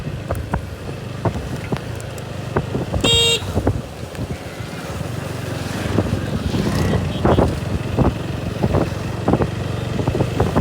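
Busy road traffic in Badamtala on a rainy day, with cars and motorcycles passing close by, a sharp horn toot early on, scattered clunks and rumbling engines under wind buffeting the microphone.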